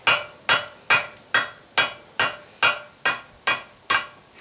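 A hammer strikes hot metal stock held in tongs, tapering the end of a brooch pin; ten sharp, evenly spaced blows land about every half second, close and loud, with no talk.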